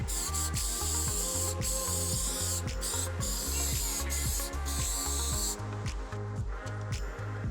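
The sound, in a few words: spraying a finishing coat of shellac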